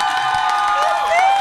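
A studio audience cheers loudly for guest Sonia von Sacher at the close of a talk show, with high whoops and shouting voices over light clapping in a brief, close burst.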